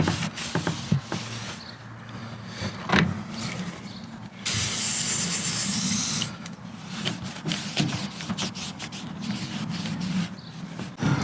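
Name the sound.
WD-40 being sprayed from an aerosol can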